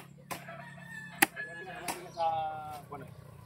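A rooster crows at a middle distance over a low steady hum, with a few sharp knocks and clucks around it.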